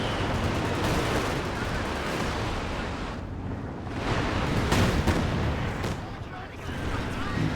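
A dense artillery barrage in a real-time strategy game, with heavy booming impacts and rumbling blasts that overlap continuously at near-constant loudness, swelling in waves.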